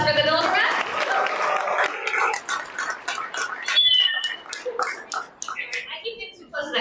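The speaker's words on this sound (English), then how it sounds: "So big round of applause for the builder rep." An audience at a real estate marketing event applauds: a dense burst of clapping that thins into scattered claps, with voices talking over it.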